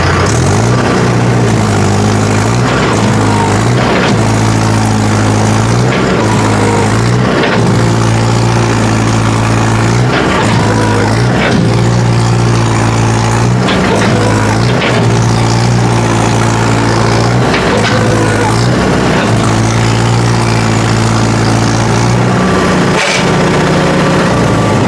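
A combine harvester with one track stuck runs its engine in a steady low idle-like drone with repeated surging pulses, loud and close throughout, no voices.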